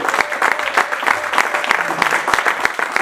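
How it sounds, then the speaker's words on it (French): A church congregation claps loudly and steadily for God, with fast, dense applause filling the room and a voice speaking faintly underneath. "on acclame encore très fort pour notre Dieu"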